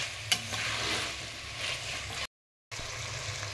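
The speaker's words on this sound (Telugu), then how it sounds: "ఇవి కూడా కొంచెం ఫ్రై అవ్వాలి." Vegetables and green peas fry for biryani, giving a steady broadband sizzle with stirring scrapes and a short gap of silence near the end.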